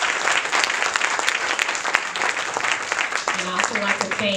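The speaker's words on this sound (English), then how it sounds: "I'd like to thank the candidates for coming out tonight and give them a round of applause" Audience applause for the candidates at a local candidates' forum, a steady patter of many hands clapping throughout, with a voice beginning to speak over it near the end.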